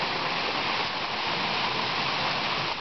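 Heavy rain pours down steadily and loudly outdoors near an open door, a dense continuous wash of water with no voices.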